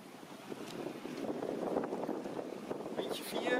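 Wind rushing and water splashing around a sailboat running before a force 4 to 5 wind on the English Channel, a soft, uneven wash with gusts of microphone buffeting.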